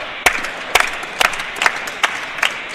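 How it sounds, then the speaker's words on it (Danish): Spectators at a men's padel final clapping in rhythm on a golden point, about six loud, evenly spaced claps ringing out over a quiet indoor crowd murmur. "Bliver klappet her"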